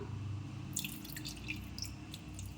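Water poured over a Shiva lingam, Nandi and Adisesha idols during a Maha Shivaratri puja, heard as soft, steady trickling and dripping splashes, close and moderately quiet, with no voices.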